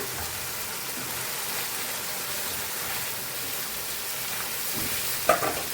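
Paneer and potato stuffing being stir-fried with spices in gravy for stuffed aloo dum, giving a steady, close sizzle throughout, with one brief clink of a utensil near the end.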